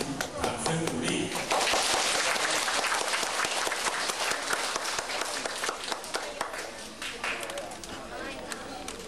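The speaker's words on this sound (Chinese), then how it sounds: "大家请掌声鼓励。" An audience at a lecture on harmonious family life claps in steady, dense applause for several seconds, with no break.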